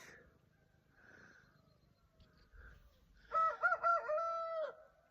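At dawn, after a few soft clucks, a rooster lets out one loud, close crow that rises and wavers before breaking off.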